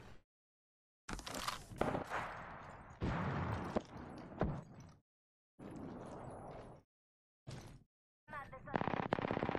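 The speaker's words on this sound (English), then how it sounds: "I'm getting shot at." Apex Legends gunfire arrives in loud automatic bursts separated by short silent gaps, close and sharp, with a voice briefly heard among the shots.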